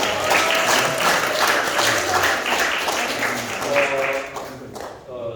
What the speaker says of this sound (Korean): 우리 이재승 형님한테 큰 박수 부탁드립니다